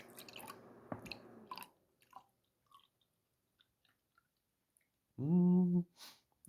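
Beer poured from a bottle gives one loud, close gurgling glug near the end, after a few faint drips and small wet sounds in near silence.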